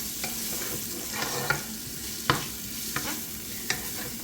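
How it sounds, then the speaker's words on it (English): Onions sautéing in a pan give a steady sizzle with a few sharp scrapes and stirring knocks at irregular intervals, close and moderately loud, with no voices. "I'm gonna get these sauteed."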